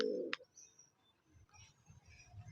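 An Indian chini kaldum pigeon gives a brief, soft coo near the start, then faint low rustling and murmuring noises follow, with no speech.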